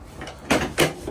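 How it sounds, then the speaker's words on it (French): Rear swing door of a Renault Kangoo van being opened, two quick solid clunks of the latch and hinge in close succession, near and clear with no talking. "porte battante avec ouverture à 180 degrés"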